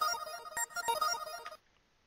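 A sped-up, pitched-up beat sample plays as a bright, chiming melodic loop with sharp percussive hits for about a second and a half, then cuts off abruptly to silence.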